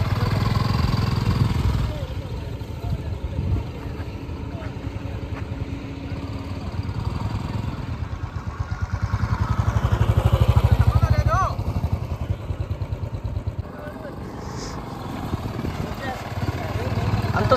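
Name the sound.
motorcycle engine running while learner rides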